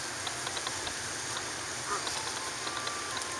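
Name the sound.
birds around a swan at Eola Park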